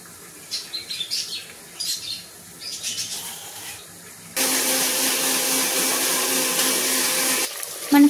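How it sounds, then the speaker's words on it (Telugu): An Indian mixie grinder blending spices, onion and tomatoes for a curry gravy, with a loud steady whir running for about three seconds after some quieter kitchen sounds, then cutting off. "మిక్సీకి వేసేసుకుందాం."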